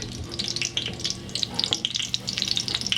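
An egg and ground turkey omelet sizzles and crackles steadily in a pan, with dense, close frying pops throughout and no talk.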